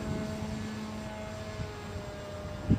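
Model Peace Drone aircraft flying a downwind leg, its propeller motor a steady faint buzzing drone at a distance, with a brief louder thump near the end.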